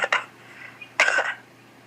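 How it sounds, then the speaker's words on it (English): Two short, close coughs, a quick one at the start and a fuller one about a second later, alone against quiet room tone. "Or I need to cough."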